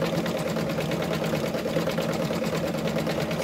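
An embroidery sewing machine stitching over jute cord runs at a steady rapid mechanical hum with a fast, even stitching rhythm, close and loud throughout, with no voices.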